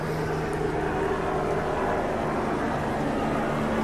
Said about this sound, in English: Got some helicopter action approaching.